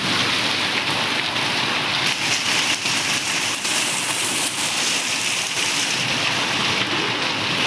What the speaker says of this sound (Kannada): ಫುಲ್ ಅಂದ್ರೆ ಫುಲ್ ಮಳೆ ಐತಿ.